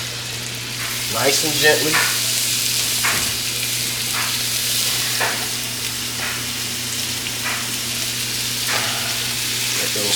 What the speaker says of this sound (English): Gonna start throwing in the beef sticks.